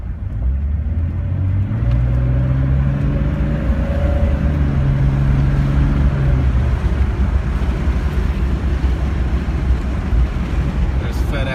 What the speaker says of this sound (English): As you see, engine is very smooth, as is the transmission.